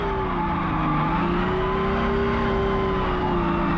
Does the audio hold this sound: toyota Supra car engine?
yes